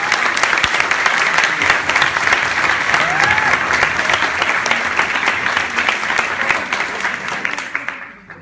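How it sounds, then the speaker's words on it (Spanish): Loud, sustained applause from a large crowd, dense clapping that carries on for several seconds before tapering off at the end. "vamos a darles un fuerte aplauso a todos ellos"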